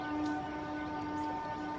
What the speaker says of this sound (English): That's the first time I've ever heard that siren.